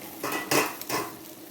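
A spoon stirs rice porridge with fried anchovies and dried shrimp in a pot, giving a few brief metallic scrapes and clinks over about a second, near and moderately loud, with no talking.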